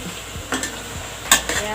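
Chicken pieces sautéing in a pan for creamy chicken pastel, a soft steady sizzle broken by a few scraping stirs and light clinks of a utensil against the pan, close and fairly quiet.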